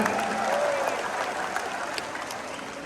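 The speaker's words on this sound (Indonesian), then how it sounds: "Beri tepuk tangan untuk para relawan yang bekerja di Banten." A large crowd at an election campaign rally in Banten, Indonesia, applauds steadily and fairly loudly, the clapping dense and sustained throughout, with faint voices mixed in.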